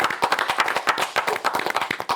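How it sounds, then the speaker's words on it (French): Studio audience applause in a TV set, a brisk burst of many hands clapping at a fast steady patter, close and fairly loud, with no voices over it. "à chaque fois qu'on prononce Hector, on doit applaudir"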